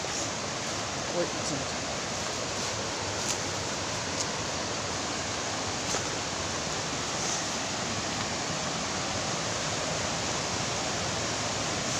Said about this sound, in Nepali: खोला आइपुग्यो अब चाहिँ।